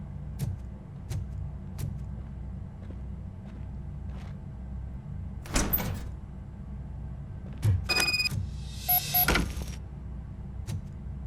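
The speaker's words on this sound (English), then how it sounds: "Now let me get that door open for you." A door opening in the RoboCop: Rogue City video game, heard as a short mechanical burst with whirring and clanks over a low engine-like rumble, with a second burst just after, no talking.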